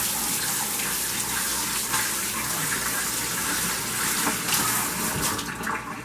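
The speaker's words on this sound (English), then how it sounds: "Rinse your hands." Water runs steadily and loudly from a kitchen tap as hands are rinsed under it, a continuous close gush with slight splashing changes.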